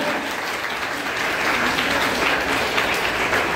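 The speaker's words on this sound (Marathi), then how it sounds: "त्यांच्यासाठी सुद्धा एका टाळ्या वाजवा." An audience in a lecture hall breaks into sustained applause, dense clapping from many hands that swells slightly and holds steady throughout.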